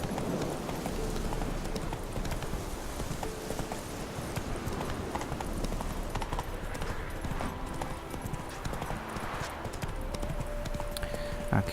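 Horse hooves clip-clop steadily at a gallop in The Witcher 3, a continuous rhythmic pounding under game ambience and music, with no talk over it.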